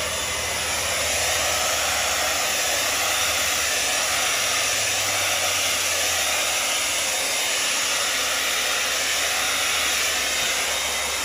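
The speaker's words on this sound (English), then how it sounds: "I'm gonna use my little pink Yeeho hair dryer." A small pink Yeeho hair dryer blows acrylic paint across a Dutch pour canvas, a loud, constant close-up whooshing roar that runs unbroken from start to finish with no voices.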